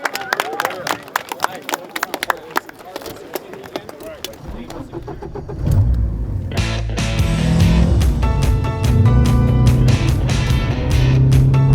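A rally car out on farm-town roads during the first stage of the 2018 Coastal Range Rally, with loud engine and road rumble that builds midway and stays strong, mixed with clattering, bumpy knocks.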